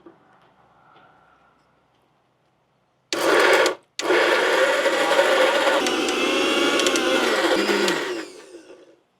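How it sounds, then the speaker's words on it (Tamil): A mixer grinder whirs loudly as it grinds green gram with chopped ingredients into rotti batter, two sharp bursts separated by a short pause, then a steady high whine that winds down, after a faint murmur at the start. "இது எல்லாத்தையும் சேர்த்து நல்லா அரைச்செடுப்போம்."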